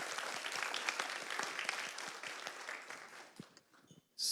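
Audience applause after a talk on an ontology project, a dense burst of clapping that thins into scattered claps and fades near the end.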